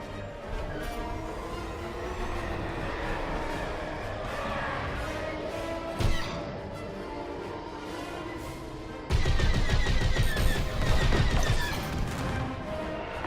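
Gunfire and turret blasts in a space combat video game, a dense, loud, continuous barrage that grows harsher and heavier in the last few seconds.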